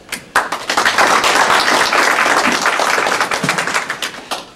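Audience at a political meeting applauding loudly and steadily, dense clapping that swells quickly and holds through to a slight taper at the end.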